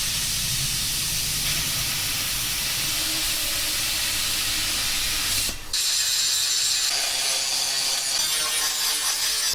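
A power cutting tool slices through a steel frame repair patch, producing a steady loud hissing, grinding rasp that breaks off for a moment and then resumes slightly brighter.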